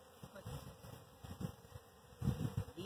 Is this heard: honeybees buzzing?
yes